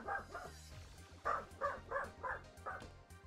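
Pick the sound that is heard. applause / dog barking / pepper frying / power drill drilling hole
dog barking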